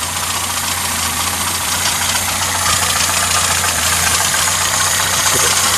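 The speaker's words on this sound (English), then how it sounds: "The lifters do make a bit of noise, but they just need adjusted." 1984 Toyota Corolla AE82 engine idling steadily with a ticking clatter from lifters needing adjustment, a constant close mechanical drone.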